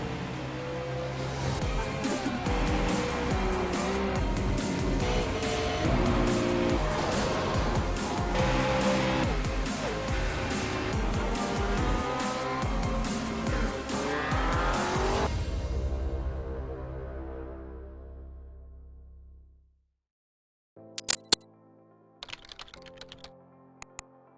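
Race cars in the iRacing sim racing game at Silverstone, a continuous roaring blend of engines, shifting tones and tire noise from a touring car pack that fades out, followed by a few sharp clicks and taps.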